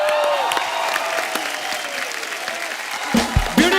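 Studio audience applause and cheering to welcome a guest on The Kapil Sharma Show, steady dense clapping that carries for several seconds before louder bumps near the end.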